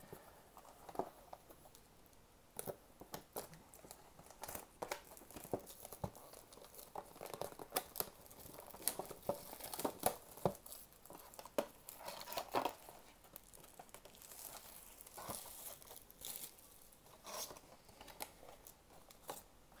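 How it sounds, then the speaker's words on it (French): Crinkling and rustling as a box of 2010-11 Panini Classics basketball cards is opened, with a run of sharp crackles, plastic wrap crumples and light tearing scattered throughout, close and fairly quiet. "Allez, on va ouvrir la deuxième boîte."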